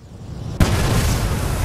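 A sudden loud explosion in the video game Watch Dogs bursts in after a low rumble, followed by a sustained roaring, crackling wash of noise.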